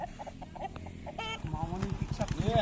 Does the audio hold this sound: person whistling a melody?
no